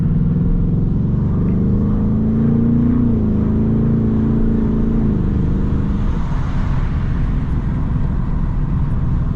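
A 2024 Ford Mustang GT V8 with factory exhaust runs loudly and steadily with a deep rumble, its pitch rising briefly as it revs, then settling back to a low drone.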